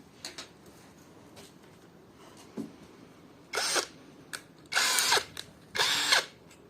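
A five-head cordless drill runs in short motor bursts, three stronger whirs of roughly half a second to a second, mixed with faint clicks and handling taps, close and fairly loud with no voices.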